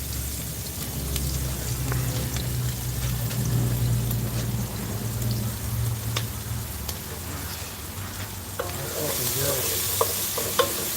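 Sweated onions frying in a pan over a lowered flame while being stirred, giving a steady, close sizzle with soft scraping throughout and a brighter, hissier crackle toward the end.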